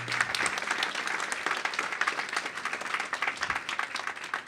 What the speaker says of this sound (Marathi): ज्योतीसाठी पुन्हा एकदा जोरदार टाळ्या.